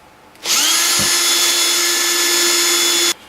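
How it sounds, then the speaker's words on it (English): Power drill, of a type used for concrete, stone and plaster, bores holes in a rubber mold with a steady, loud, high whine for nearly three seconds, starting and stopping abruptly with no talk. "So now I'm just going to drill these holes."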